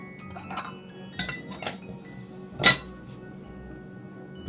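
A pot holding cinnamon sticks gets its lid set on, with a few light metallic clinks and one sharper clank standing out against a quiet kitchen.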